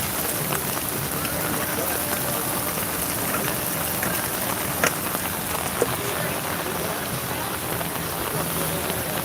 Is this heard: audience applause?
no